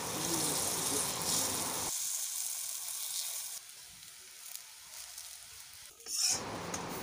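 Pitha being set into a hot wok for frying, a steady sizzle and hiss that drops away briefly and then returns, close by with no talking.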